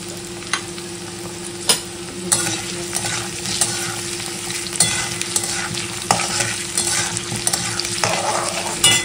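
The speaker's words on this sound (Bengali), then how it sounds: "তো দেখো এখানে আলু পেঁয়াজটা খুব সুন্দর করে ভাজা ভাজা হয়ে গেছে।" Potatoes and onions are stirred as they fry in a pan with dry red chillies and white cumin. A close, continuous sizzle is broken by repeated sharp scrapes and knocks of the spoon against the pan, with no talking.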